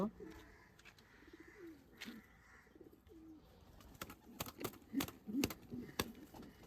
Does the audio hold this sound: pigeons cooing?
yes